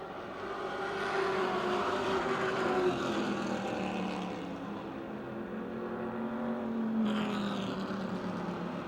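Street Stock race cars racing at a speedway, engines droning steadily at moderate distance with rising and falling pitch as the pack circles, a car sweeping past near the end.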